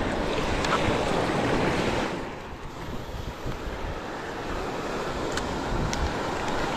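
Surf washing onto a beach on the Konkan coast during rod fishing, a steady broadband roar of breaking waves with slight swells and wind buffeting the microphone, continuous throughout.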